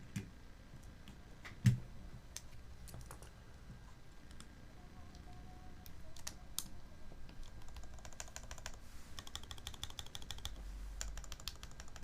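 Someone types on a Pandora HHKB mechanical keyboard fitted with Zaku switches, producing close, crisp clacky keystrokes in irregular bursts with a heavier thock from the enter key. The typing gets denser toward the end, and no one speaks.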